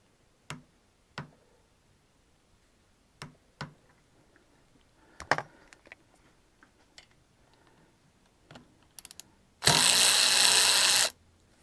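A Hyper Tough 12V cordless ratchet is worked against a torque wrench: sparse sharp ticks and clicks, then a loud motor whir of about one and a half seconds near the end.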